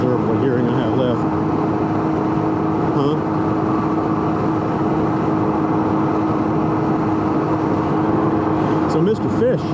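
A Can-Am Ryker three-wheeled motorcycle rides along a road with a steady, loud engine drone and gear whine mixed with constant road and wind rush, holding evenly throughout.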